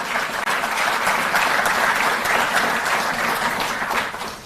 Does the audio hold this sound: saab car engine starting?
no